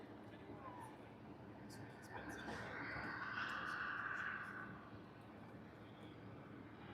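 A fixed-wing airplane passes overhead on the approach path down to YVR, a broad engine roar that swells in the middle and fades, heard amid background noise by the water while fishing for pink salmon.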